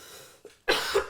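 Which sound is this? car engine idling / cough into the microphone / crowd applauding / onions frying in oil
cough into the microphone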